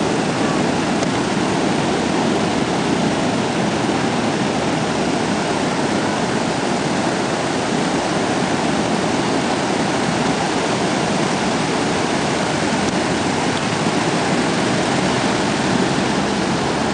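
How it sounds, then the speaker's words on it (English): Ocean waves break on a Florida beach in a steady, loud, unbroken roar of surf that fills the whole stretch, with no voices over it. "Big wave today."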